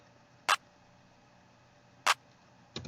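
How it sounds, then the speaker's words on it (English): Two sharp, isolated drum machine clap sample hits in FL Studio, spaced well apart, followed by a softer, shorter burst at the end, dry and close. "my clap normally would just sound like this"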